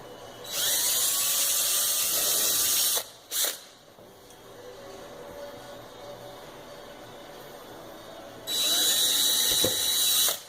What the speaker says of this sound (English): we're going to drill down vertically in line with where that hole is